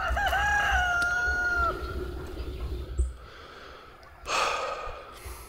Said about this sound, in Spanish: Los gallos cantando.